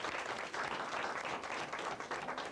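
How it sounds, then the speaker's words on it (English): A room of new teachers in a training session applauds each other, a dense, continuous patter of many hands clapping at moderate volume with no speech over it. "I want everybody to clap for everybody else for making a contribution to the room"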